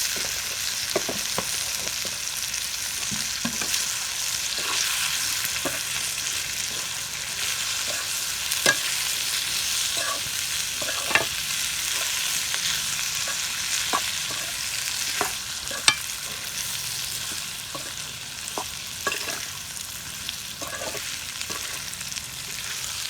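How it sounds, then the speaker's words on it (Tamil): Gooseberries being stirred in a pan for a spicy pickle with rock salt, a steady sizzle running throughout with repeated soft scraping and clicking strokes of the spoon against the pan, close and continuous, with no talk. "நெல்லிக்காயை கொட்டி நல்லா கிண்டி வச்சுக்கலாம்"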